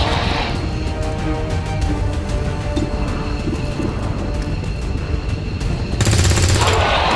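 Rapid bursts of gunfire from a tactical squad battle in XCOM 2 Long War, a steady dense rattle of shots through most of the stretch, swelling louder near the end, with voices talking over it.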